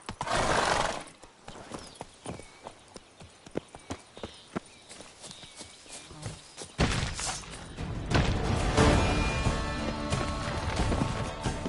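Roach the horse from The Witcher 3: Wild Hunt galloping in-game, a rapid stream of hoof clip-clops with a whinny at the start, building into louder, continuous rushing movement and thuds in the second half.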